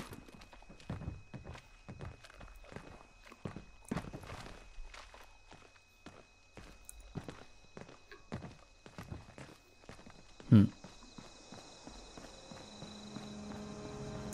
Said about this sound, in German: Ich höre hier auch jede Menge Schritte.